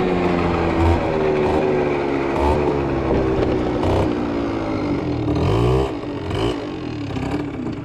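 An MBK Booster Next 50 scooter fitted with a Polini kit holds high revs, giving a loud, buzzing two-stroke whine close by. The pitch wavers up and down steadily and then eases off near the end.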